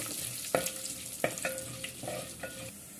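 Garlic, urad dal and coriander seeds fry in a pan for a coriander chutney, giving a soft steady sizzle broken by several sharp scraping stirs of a spoon, close and fairly quiet, with no talk.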